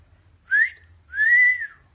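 Two clear whistled notes, a short rising one followed by a longer sustained tone, sounding close and standing alone against quiet background.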